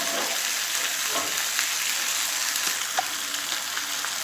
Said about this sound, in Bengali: আমি আরও পাঁচ সাত মিনিটের মতন মাংসটা কষিয়ে নিই